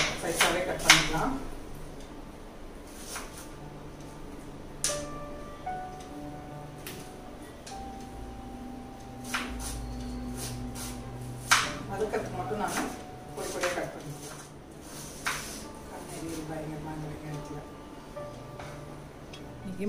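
A knife chops vegetables into large chunks for a tomato kuruma masala, with sharp, irregular taps on a cutting board spread across the stretch, close and clear, while a person talks over the cutting.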